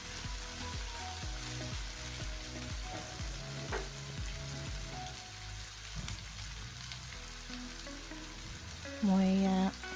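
Chicken frying with laixak greens in a pan gives a steady sizzle with some stirring clatter through most of the stretch, and a short tonal sound close to the end.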